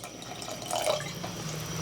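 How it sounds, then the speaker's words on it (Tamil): Water is added to a pan of cooked lentils and spinach for spinach dal, a soft close splashing pour lasting about a second with no talk. "இப்போ கொஞ்சம் தண்ணி ஆட் பண்ணிக்கலாம்."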